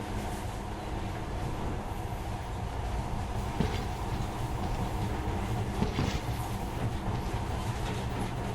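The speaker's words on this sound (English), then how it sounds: "But now, this monorail seems magic, doesn't it?" A monorail train in the video game Metro: Last Light Redux rolls along steadily with a continuous mechanical rumble and faint rhythmic clatter, close and sustained throughout.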